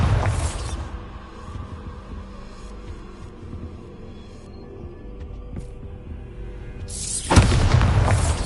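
A Bombarda spell blast in a Harry Potter game, with a heavy explosive boom at the start, a low throbbing hum between, and a second loud burst near the end.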